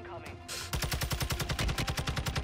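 The player's gun in Call of Duty Warzone on Ashika Island fires in a steady, rapid automatic rhythm, close and punchy, each shot evenly spaced after a brief lead-in, with a voice speaking alongside.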